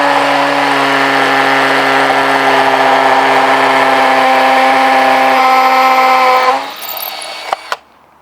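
A power drill bores holes for post lights, a loud steady motor whine with strong tonal hum running for about six seconds, then it spins down and stops with a couple of sharp clicks and knocks.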